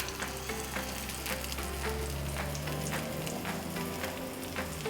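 A smoked oyster scallion pancake sizzles steadily in a hot pan, a dense, continuous crackle of frying oil with small pops throughout and no talking.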